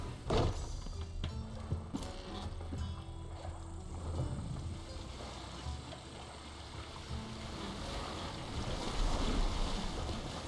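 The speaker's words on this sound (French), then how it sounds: "il a tellement ramé fort, c'est un bateau à moteur le machin." A boat in Assassin's Creed Odyssey moves fast over the sea, with a steady wash of waves and wind noise throughout and no talking.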